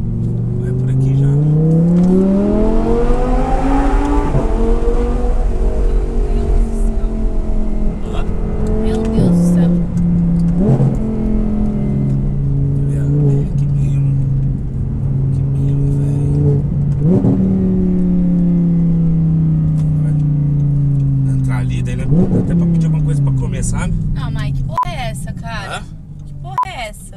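An Audi R8's engine revs and accelerates in loud rising and falling sweeps, pulling hard through several gears from close by, with people talking over it.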